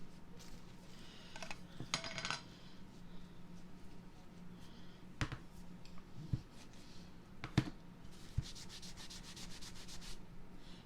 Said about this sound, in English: I'm just going to wax the top of this because that's where I'm going to put the transfer